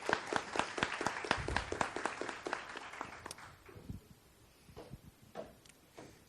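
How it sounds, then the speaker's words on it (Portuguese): Audience applause at an academic distance-education conference, a dense burst of clapping that thins out into a few scattered claps, heard at moderate distance. "Chega aqui com a gente, Jaqueline, com palmas"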